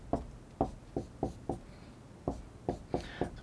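A pen or marker sketches Lewis structures by hand, giving a string of short, crisp scratching strokes in uneven bursts, close and clear, with a brief pause in the middle.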